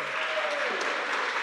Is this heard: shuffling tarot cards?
no